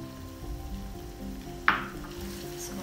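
Chicken sizzles in a karahi as black pepper and coriander powder are stirred through it: a steady low fry under a faint musical drone, with one sharp metallic clink of the spoon against the pan midway.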